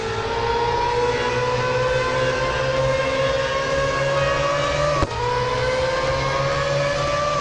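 Race car engines in the Real Racing 3 video game at Daytona drone loudly and steadily, the pitch slowly climbing, with a brief drop like a gear shift near the end before rising again.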